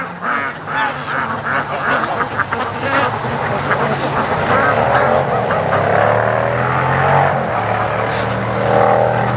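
Ducks being raised for charity quack repeatedly as they come out of a creek, a loud, busy chorus of calls close by with occasional voices mixed in.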